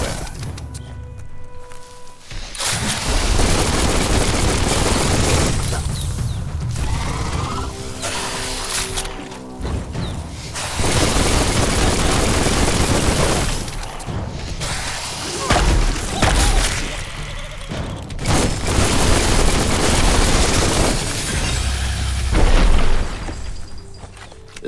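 Heavy gunfire and booming impacts in Biomutant combat: long stretches of dense shooting and explosions broken by short quiet gaps, loud throughout, with clanking mechanical effects between bursts.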